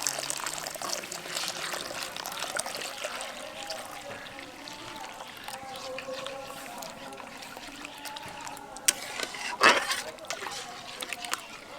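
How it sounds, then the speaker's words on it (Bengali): Cornflour-thickened grape juice poured into boiling sugar syrup for a grape sandesh sweet, a soft continuous pouring and liquid trickle close up, then faint clinks near the end. "এই সময় আমি এর মধ্যে দিয়ে দেবো কর্নফ্লাওয়ার গুলে রাখা আঙুরের রস।"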